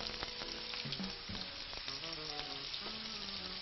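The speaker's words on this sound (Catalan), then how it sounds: "sofregirem un poquet de ceba" Onion sizzles in a hot pan for a skate dish with pepper sauce, a dense continuous frying hiss with utensil scrapes and faint tonal clinks, close and even throughout.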